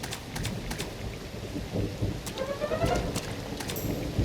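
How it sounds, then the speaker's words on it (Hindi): Steady rain hisses through a cartoon scene while rolls of thunder break in, with a few faint tonal sound effects over the downpour. "तुम्हें बारिश से दूर जाना होगा छोटे बच्चे।"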